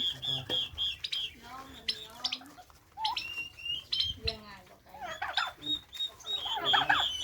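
Turkey chicks chirp and peep in a busy, overlapping chorus, high thin calls close by, with someone speaking intermittently underneath.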